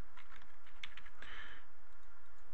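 Typing on a computer keyboard, a short, quiet burst of several key clicks, then a brief cluster of faster taps close by.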